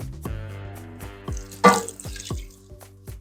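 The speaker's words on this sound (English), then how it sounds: "And I'm also going to add 2 cups of water" Water pours into a Dutch oven of cabbage and kale soup, producing close liquid splashes and dripping plops in an irregular series of separate bursts, with no speech.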